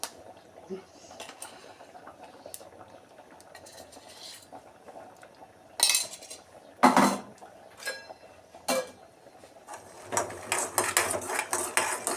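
Peanuts being stirred with a spoon in a pan at home, giving soft scraping and metallic clinks, with a few louder clanks against the pan, close up and fairly quiet.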